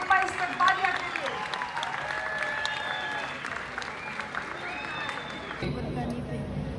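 An audience applauds to welcome the president of the Arts Council of Pakistan Karachi at the Pakistan Literature Festival opening ceremony: steady clapping from a crowd with murmuring voices, then it thins and drops off abruptly near the end.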